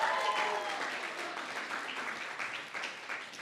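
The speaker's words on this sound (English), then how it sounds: "one last round of applause for Kili Pohe" Audience applause at a symposium, a steady dense wash of many hands clapping, moderately distant and fairly faint, slowly thinning toward the end with no voices over it.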